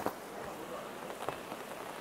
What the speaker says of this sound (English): it's pouring really hard and it's raining really heavy